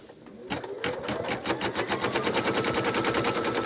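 An embroidery machine stitches a placement line for the background of a placemat, a rapid, even mechanical chatter that starts up and runs steadily at close range.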